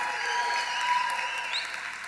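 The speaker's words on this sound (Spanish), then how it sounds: "Dele un fuerte aplauso y haga chiflido." A church congregation claps steadily at a distance, fairly faint, with a brief whistle rising above the applause.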